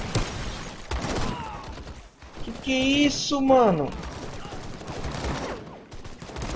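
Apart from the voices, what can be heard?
flak anti-aircraft gunfire in a video game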